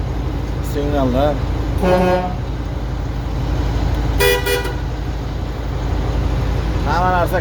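Vehicle horns honk in several short, separate blasts, some wavering in pitch, over a steady engine rumble nearby.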